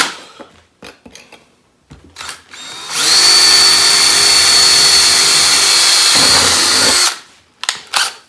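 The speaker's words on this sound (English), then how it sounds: "And then get our pilot hole drilled." A power drill whines loudly and continuously for about four seconds while drilling a pilot hole in a vehicle cab floor, bracketed by short bursts of handling noise and brief drill starts.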